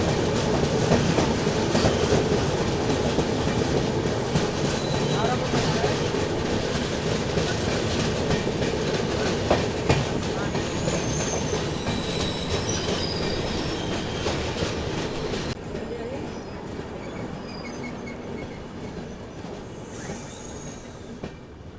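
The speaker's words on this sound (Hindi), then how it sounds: "अजनी वेब 7 के साथ दुरंतो एक्सप्रेस" A Duronto Express hauled by a WAP7 locomotive runs past with a loud, continuous rumble of rolling wheels, rhythmic clatter over rail joints and occasional squeals, fading slightly toward the end.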